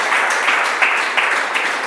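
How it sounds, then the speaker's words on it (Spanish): A church congregation breaks into applause during a sermon, a bright, dense patter of many hands clapping close by, steady for nearly two seconds with slight surges in intensity. "Ahí cabe un aplauso"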